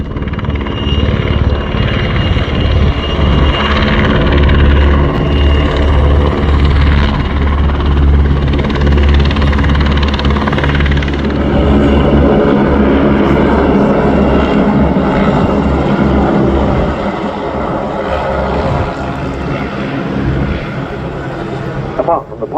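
A camouflaged military helicopter hovers at an airshow while winching crew aboard, its loud, continuous rotor thrum and engine roar filling the whole span close by, with some talk beneath.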